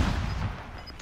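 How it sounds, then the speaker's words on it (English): A short burst of gunfire from another player in a first-person shooter game cracks loudly at the start and fades over about a second. "Whoa, someone else is shooting me."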